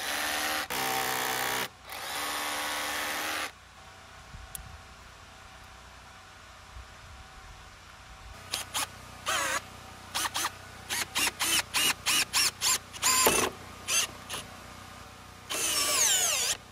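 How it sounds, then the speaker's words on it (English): A hammer drill bores into old brick to set tapcon screws for mounting a cable, sounding in short, sharp repeated bursts with pauses between, loud and close, with longer grinding runs at the start and end. "So drill right in here with a hammer drill and you run a couple tapcons right in there."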